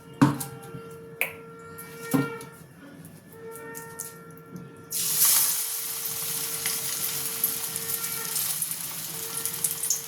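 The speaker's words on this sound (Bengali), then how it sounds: "এবার আমি এই চপগুলো ভেজে নেব।" Eggplant and potato chops drop into hot oil in a kadai on a gas stove, and a loud, steady deep-fry sizzle takes over partway through after a few clicks and taps, with no talking.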